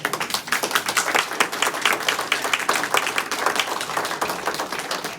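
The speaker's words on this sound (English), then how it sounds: "Give everyone here a round of applause." A small crowd applauds with dense, steady clapping that continues throughout.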